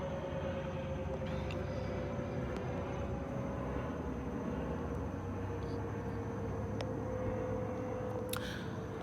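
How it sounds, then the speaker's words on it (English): A large airplane passes overhead, its steady broad roar filling the whole stretch at a constant level with no break, heard outdoors with no talking. "there's a big plane above me"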